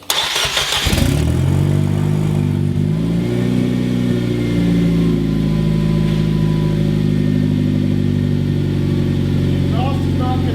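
Nissan Juke time attack build engine firing for the first time with no exhaust connected, a sharp crank and catch followed by a loud, raw, uneven idle that runs steadily close by, with a voice briefly heard over it.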